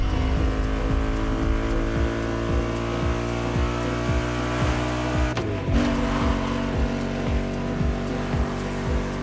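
A racing car speeds along a winding Hawaii mountain pass road in the video game The Crew. Its engine drones steadily and close throughout, with a harsh burst and possible tire squeal about halfway through.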